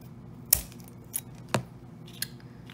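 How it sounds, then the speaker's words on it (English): Scissors snip through a popsicle-stick craft piece, trimming pointy bits in a few sharp, separate clicks spaced unevenly over a couple of seconds, close and clear with no talk. "grab some scissors and just kind of trim them"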